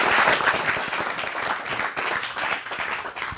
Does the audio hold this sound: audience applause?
yes